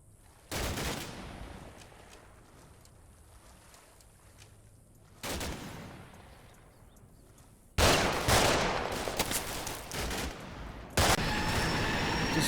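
Bursts of gunfire from the Combat Mission Black Sea war game, several separate volleys of rapid shots and fusillades at moderate loudness, with quieter gaps between them.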